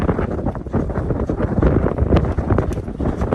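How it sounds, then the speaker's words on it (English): Strong wind blowing across the open Great Divide Basin at dusk, a steady loud roaring buffet with gusty surges battering the microphone throughout, no voices. "when the sun goes down, the wind dies down. But it's not doing that now."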